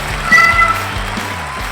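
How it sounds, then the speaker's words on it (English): Bucky the cat gives a short, clear meow, one brief, close call over a soft, steady background hum. "Now the star of Life with Bucky, Her Royal Buckiness, the world's most amazing cat, Bucky."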